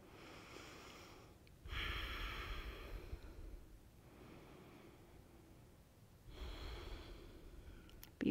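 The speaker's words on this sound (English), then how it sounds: "Take those 2 deep breaths on your own." Deep breaths drawn in a quiet yoga class, two slow, airy inhale-exhale swells separated by stillness, close and soft with no talking.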